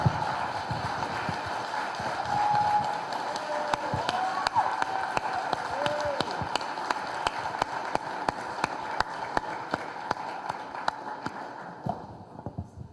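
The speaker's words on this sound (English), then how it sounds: "the applause says it all" Sustained applause from a lecture audience, a steady dense clatter of clapping that holds for several seconds before tapering off at the end.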